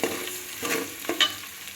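Onions sautéing in a pan for brinjal sambar make a close, steady sizzle, with a few quick spatula scrapes and stirs.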